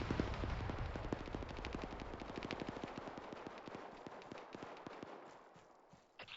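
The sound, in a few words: grenade explosion and gunfire during airsoft platoon training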